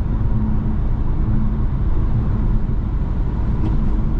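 Steady low engine drone and road noise from a 2023 Dodge Hornet GT Turbo accelerating on a highway, a continuous, even rumble with no speech.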